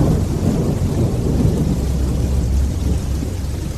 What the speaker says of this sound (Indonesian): Hujan gerimis mulai turun.